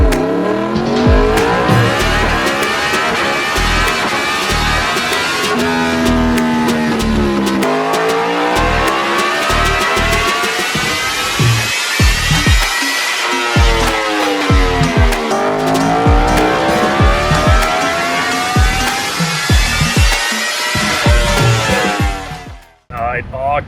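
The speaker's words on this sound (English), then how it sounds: "The shifting felt like it was a lot smoother, ripping through the gears and quick shift." A 2023 Yamaha R1M sport motorcycle with a Racefit aftermarket exhaust revs hard and rises in pitch through repeated quick-shifted gear changes, dropping briefly between pulls, raspy and close.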